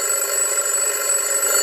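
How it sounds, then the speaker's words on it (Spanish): A loud, steady cartoon alarm clock tone rings continuously, shrill and unbroken throughout, with no voices. "Pato puso su alarma."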